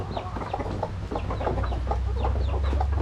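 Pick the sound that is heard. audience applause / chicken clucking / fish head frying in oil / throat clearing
chicken clucking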